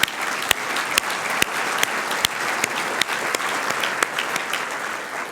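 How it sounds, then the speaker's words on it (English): An audience at a regional planning event gives a round of applause, a steady and fairly close wash of many hands clapping with a few sharp, louder claps standing out. "So we should give them a round of applause too."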